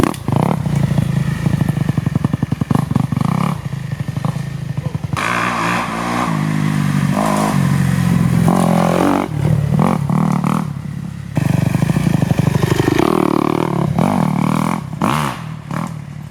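A dirt bike engine while riding on dirt, loud and close, revving up and down in repeated surges with throttle blips, brief dips and drops between pulls, and rattly clatter from the bike.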